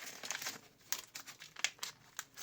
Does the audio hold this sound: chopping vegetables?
no